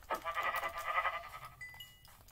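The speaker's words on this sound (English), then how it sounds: "Ooh, sheep." A sheep in the Minecraft video game gives one wavering, nasal bleat that lasts about a second and a half, fairly close and quiet, followed by faint clicks.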